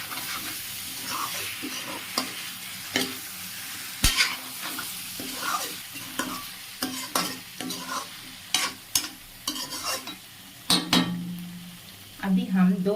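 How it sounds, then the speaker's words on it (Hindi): Chicken being stirred with masala in a hot pan, a steady sizzle of frying under repeated spoon scrapes and occasional clinks against the metal, close and continuous, without talking. "मैं चिकन को डाल देंगे। और इसको अच्छे से मसाला के साथ मिक्स कर लेंगे।"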